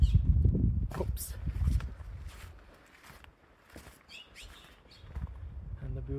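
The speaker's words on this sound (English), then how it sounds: "the beautiful sounds made by these birds" Birds chirp in short, scattered bursts at a distance at Heart of Rocks, Chiricahua National Monument, faint over low rumbling and occasional footsteps outdoors.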